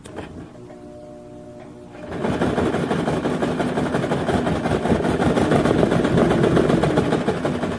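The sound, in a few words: sewing machine stitching fabric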